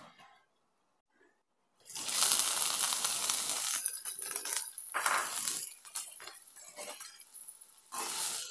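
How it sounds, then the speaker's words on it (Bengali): Chopped onion dropped into hot oil while cooking loitta shutki bhuna: after a near-silent pause, a loud, close sizzle bursts in and keeps crackling and hissing steadily, with faint clinks along the way. "তেলটা ভালোভাবে গরম হয়ে গেলে এখানে আমি পেঁয়াজ কুচি দিব।"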